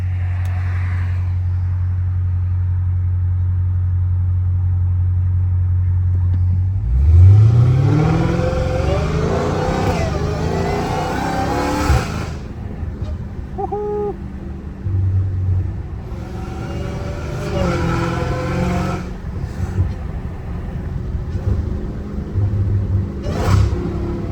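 A Dodge Hellcat Redeye idles with a low rumble, then revs hard several times. The rising engine roar is close and loud, with a high whine climbing over each burst of throttle and lower idling between the revs.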